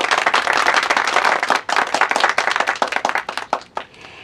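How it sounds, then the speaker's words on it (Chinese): Classroom of students applauding together, a dense burst of clapping that thins into scattered, separating claps and fades near the end. "大家鼓掌。"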